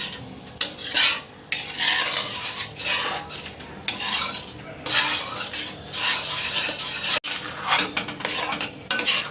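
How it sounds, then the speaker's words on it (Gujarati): Semolina being stirred into milk in a pan for guava sheera, a steady scraping and rasping of a spoon against the pan in repeated strokes, close and fairly loud, with no voices. "રવાને આપણે આવી રીતે મિક્સ કરી દઈશું"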